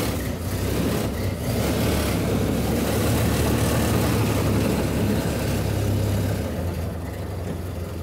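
A 1928 Ford Model A Phaeton engine idles in neutral with a steady low rumble that stays constant and close throughout.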